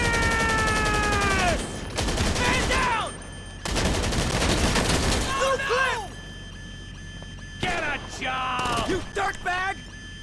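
Bursts of heavy shotgun and gunfire in GTA 5 Online come in loud clusters separated by short gaps, mixed with game effects, while a person talks in between.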